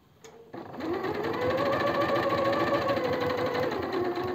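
A sewing machine stitches a silk blouse, its steady motor whir starting after a brief pause and running evenly, close and clear, with no talking.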